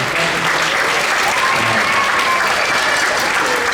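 A middle school audience at a sixth grade band concert bursts into steady, loud applause that fills the room evenly and carries on for the whole stretch without a break.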